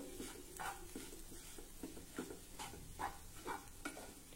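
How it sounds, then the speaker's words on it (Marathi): Vatli dal, a traditional Maharashtrian besan dish, is stirred as it fries in a pan over low heat, with a steady sizzle and soft, repeated spatula scrapes. The sound is faint and close, with no talk. "एक वेळा आपण हे परतून घेऊ।"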